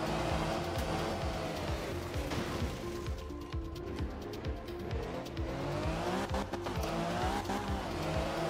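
A rally car in Art of Rally skids off the road, its engine droning steadily with rising and falling revs while tires squeal and scrub throughout, loud and continuous.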